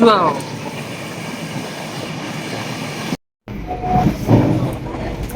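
A passenger train on a journey to Delhi rumbles along the rails with a loud, continuous rolling drone and a brief dropout partway through, after which the rumble returns with faint squeals.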